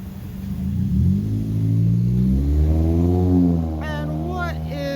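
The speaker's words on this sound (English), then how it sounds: "What is all this traffic?" A car on a night-time holiday street in Old Town Pasadena revs up with a rising engine pitch as it pulls away and passes close by, loud over a steady hum of city traffic.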